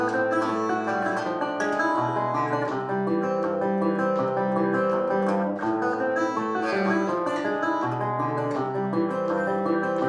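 Guitar chords ring out in a steady, brisk progression, strummed at full tempo and played continuously without pauses.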